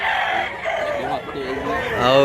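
Rooster at a gamefowl sale in Mantalungon, Cebu, crowing under steady talk among buyers, the clearest crow rising near the end.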